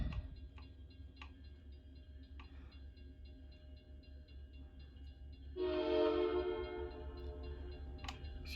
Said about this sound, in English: Comes a train down Fort Edward.